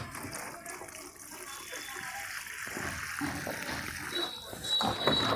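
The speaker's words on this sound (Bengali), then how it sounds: "জল ভর্তি করে দিলাম, সম্পূর্ণ শুকনো আছে।" Water is poured into a completely dry grow bag holding a camellia plant, making a steady, close gushing and splashing that continues throughout and grows slightly louder toward the end.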